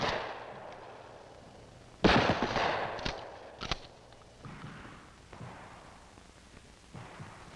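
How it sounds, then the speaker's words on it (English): Shotgun fired during firearms training, a single sharp blast followed by a few quick secondary reports, then fainter scattered pops at the tail, heard close and alone without talk. "Offhand aimed fire is best suited to longer ranges."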